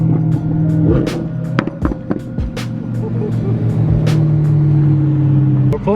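A Liberty Walk widebody Lamborghini revs nearby at a car wash, with sharp throttle blips and bursts cutting over a steady idling drone, accompanied by clicks and knocks in the surroundings.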